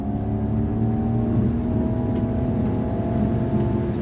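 A Ford Mach-E GT electric car accelerating under throttle, giving a steady, loud synthesized propulsion hum with layered tonal whine and a low rumble, continuous and without talk.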